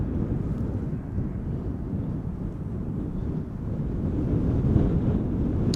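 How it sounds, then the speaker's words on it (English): Wind gusts at Amsterdam Schiphol Airport and buffet the microphone with a continuous low rumble that grows slightly stronger toward the end, with no voices. "Wind is picking up."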